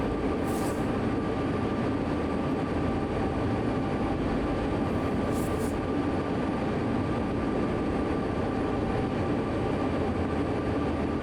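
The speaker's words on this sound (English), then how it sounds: "Long, what I would presume, ethanol train." A long ethanol freight train in Train Sim World 2 rumbles past steadily, a continuous heavy rolling roar with faint higher metallic hiss bursts, loud and close throughout.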